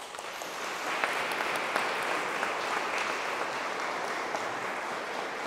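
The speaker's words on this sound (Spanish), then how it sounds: "Un aplauso para todos." Church congregation at a feast-day Mass in a sanctuary applauding together, a steady, fairly soft and somewhat distant patter of many hands that continues evenly throughout.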